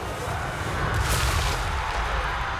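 Grand Cannon artillery fire in Total War: Warhammer 3 forms a dense, sustained rumble of distant booms and battle noise, with a brighter burst of impact near the one-second mark.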